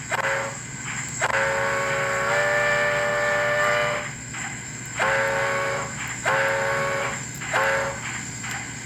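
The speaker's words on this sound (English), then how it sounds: "I'm going to touch on the bell just to give it a link or two. Then give it a whistle." American Flyer model steam train sounds its whistle in several long harmonic blasts with short gaps, loud and close, with a steady mechanical hum underneath.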